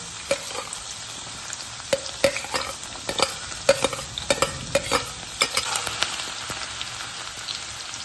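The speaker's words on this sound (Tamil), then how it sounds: "சூடாயிடுச்சு இப்போ முதல்ல வந்து பூண்டை போட்டுடலாம்" Garlic dropped into hot oil for a greens dish crackles with a steady close sizzle, broken by sharp clicks and scrapes of stirring; no one speaks.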